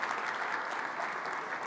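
Audience applause at a breakfast plenary on American politics, greeting two expert panelists; a steady, even wash of many hands clapping, moderately distant and consistent throughout.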